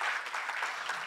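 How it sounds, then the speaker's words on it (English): A short burst of audience applause after a talk, scattered claps at moderate level fading slightly over about a second. "Round of applause."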